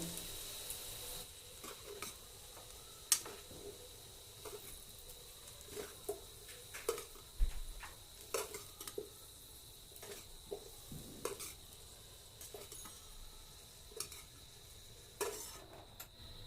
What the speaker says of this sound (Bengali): আলুগুলো 5 থেকে 6 মিনিট ভেজে নিয়েছি, এবার তুলে নেব।